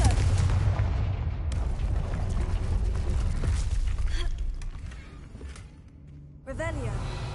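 Confringo blasting spell from a video game, a loud rumbling explosion that booms and fades over several seconds before a fresh burst of magical effects, with a voice speaking over the action.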